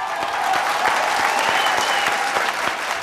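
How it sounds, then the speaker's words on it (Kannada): Loud audience applause from a studio crowd on a Kannada television chat show with actor V. Ravichandran, steady dense clapping sustained throughout with a faint voice beneath. "ಹೋ ಜೋರ್ ಚಪ್ಪಾಳೆ"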